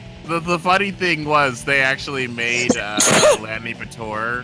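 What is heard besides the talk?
sneeze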